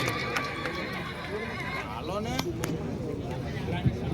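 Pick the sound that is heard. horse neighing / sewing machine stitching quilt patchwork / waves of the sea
horse neighing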